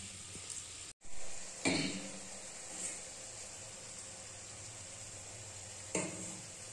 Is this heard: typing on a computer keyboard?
no